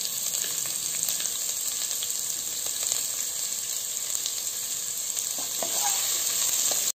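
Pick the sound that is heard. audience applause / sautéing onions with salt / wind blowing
sautéing onions with salt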